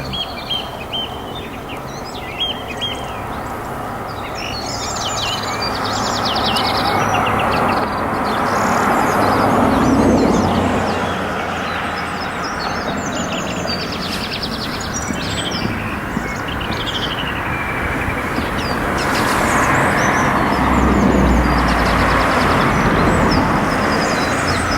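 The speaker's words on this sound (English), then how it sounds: "taking time to stop and listen to the birds" Morning birdsong at Chalkwell, with repeated chirps and calls sounding close, over a steady background rumble of distant traffic and a passing train.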